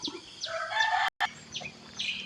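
Chickens cluck and crow near and far against a steady outdoor background at a Buddhist temple in Chae Hom, Lampang, Thailand, with birds chirping; a short dropout cuts the sound midway.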